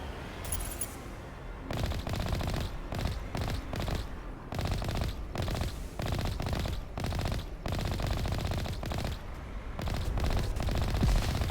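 Automatic gunfire from a weapon in the video game Mass Effect, Legendary Edition: sustained rapid bursts rattling almost continuously, loud and close, with brief pauses between volleys and no talking.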